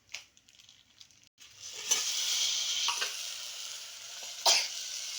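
Washed eggplant pieces go into a hot pan for a spicy village-style bhaji and start to sizzle steadily. A few clattering stirs punctuate the fry, with soft knocks heard just before.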